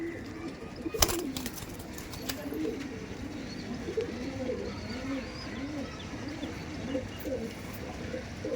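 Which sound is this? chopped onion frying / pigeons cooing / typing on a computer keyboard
pigeons cooing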